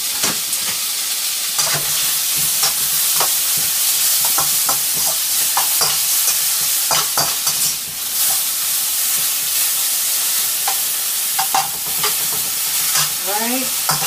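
Onions and garlic fry in oil while being stirred, a continuous loud sizzle broken by repeated scraping and clinking stir strokes close by, with no talk.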